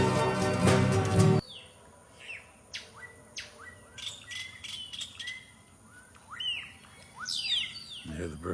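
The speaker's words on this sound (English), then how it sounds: "You hear the birds?" Birds in Belize chirp and tweet in short, bright calls, some close and some farther off, scattered over a quiet outdoor background after a brief loud harmonic sound at the start.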